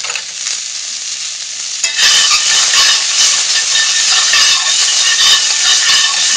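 Browning onions sizzle in a pan, then vegetables go in for a tofu scramble and a sudden louder, hissing crackle takes over and holds steady close up.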